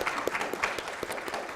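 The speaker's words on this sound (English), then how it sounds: "Christy, yes, applause." Brief scattered clapping from a conference audience, moderately faint, with a few sharp individual claps standing out.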